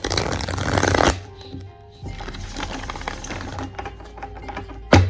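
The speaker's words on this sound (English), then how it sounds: "we are going to pull some cards" Playing cards are shuffled for a card reading, giving bursts of rapid riffling and flapping, loud and close, separated by a quieter pause and ending with a sharp tap, without speech.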